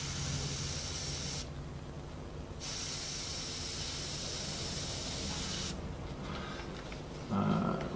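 An airbrush sprays paint in a steady, even hiss across an eye design, pausing briefly twice before resuming, with a slight thump near the end.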